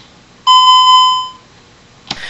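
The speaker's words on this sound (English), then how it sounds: "Now I open a window, and each window will chime." A Vista 20P alarm system gives a single clear electronic chime as a window is opened, a steady tonal beep lasting about a second before fading, followed by a faint brief click.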